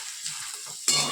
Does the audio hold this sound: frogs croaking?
no